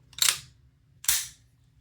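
A Sig-Sauer P211 GTO pistol is dry-fired twice, giving two crisp, close metallic clicks about a second apart, with no talk.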